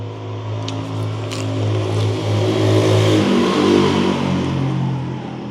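A car engine revs loudly and steadily nearby, its drone swelling and holding before easing off slightly, with no voices.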